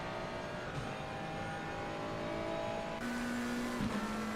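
A Ferrari race car in a racing video game of the 24 Hours of Spa powers out of a corner, engine note climbing and holding steady, with other engine drone in the background.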